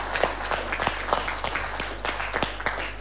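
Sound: audience applause for Professor Jima

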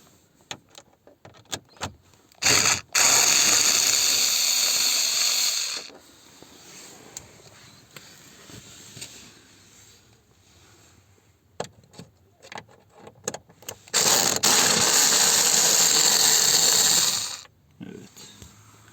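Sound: unscrewing Phillips screws from Hyundai Accent instrument cluster

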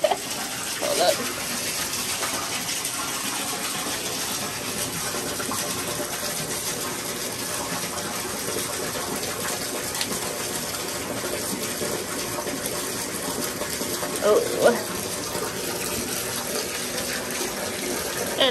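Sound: bathtub filling with water from the tap

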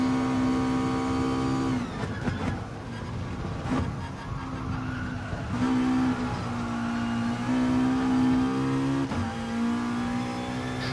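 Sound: race car engine accelerating on throttle

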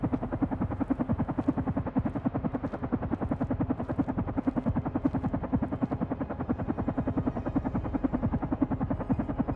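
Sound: helicopter in the video game Carrion

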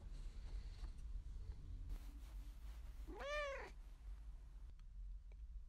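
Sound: cat meowing

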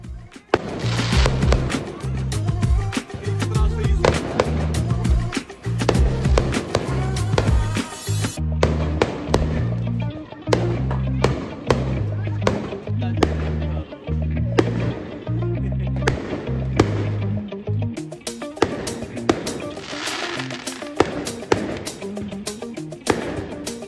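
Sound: firecrackers going off at Gurupurab celebration

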